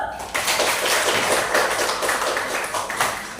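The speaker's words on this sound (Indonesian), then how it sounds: "Kasih aplaus dulu." A classroom audience claps for a student's presentation, a dense burst of applause lasting a few seconds that fades slightly at the end.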